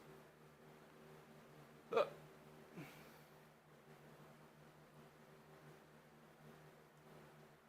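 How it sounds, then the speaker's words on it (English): One sharp, brief hiccup from a person at a gym bench press, followed by a fainter second catch about a second later, over steady low room hum. "Sorry, the hiccups."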